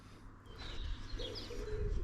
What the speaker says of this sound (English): if you listen, the birds are singing